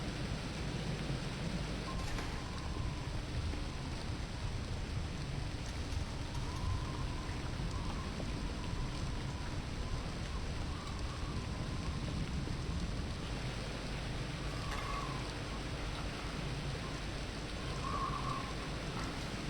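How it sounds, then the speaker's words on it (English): Steady rain with distant thunder rumbling in the Voices of the Void video game, a continuous wash of rainfall filling the scene, with no voices over it. "I don't know if I want him going out in the rain"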